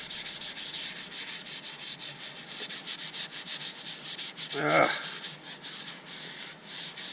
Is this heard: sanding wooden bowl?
yes